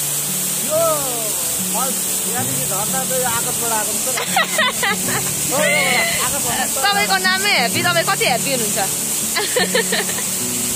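Steady broadband rush of water at the Perbing/Dong Tsanga waterfall in Sikkim, constant and loud, with people talking over it throughout.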